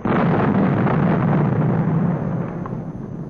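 An atomic bomb burst from a 1950 film: a continuous, loud, rumbling roar that holds steady for over three seconds before easing slightly, with no voices.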